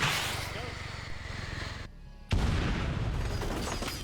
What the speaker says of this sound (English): There's the tank going off.